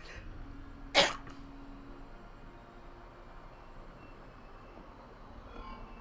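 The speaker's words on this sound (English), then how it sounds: "Blimey, that was a sneeze and a half." A single sharp, loud sneeze bursts out near the start, close to the microphone, followed by a quiet low background hum during a PC game session.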